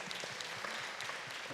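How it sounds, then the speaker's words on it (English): Quiet audience applause for a seniors' event panel, a soft steady patter of many hands clapping, heard from a distance in a room. "We'll give them a round of applause here"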